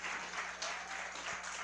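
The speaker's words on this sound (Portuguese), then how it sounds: "Pode aplaudir o Senhor, irmão." A church congregation claps together in a brief, steady burst of applause during a sermon, many hands blending into a continuous patter.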